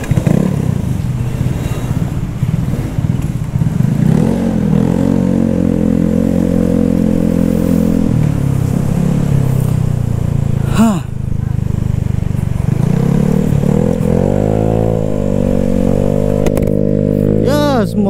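A Honda Scoopy scooter accelerates on a night ride in Makassar, its engine note rising in pitch through repeated revving surges, loud and close, with a brief clatter partway through.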